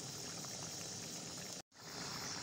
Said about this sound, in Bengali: ঝোলটা একদম ফুটে গেছে